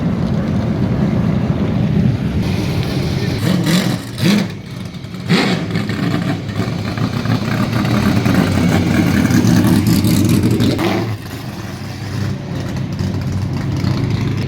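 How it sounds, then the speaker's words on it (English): Race car engines roar at Atlanta Speedway during time trials, a loud continuous low rumble heard from the stands with swelling passes and brief surges as cars go by. "we're sitting here watching some of the race cars getting out there"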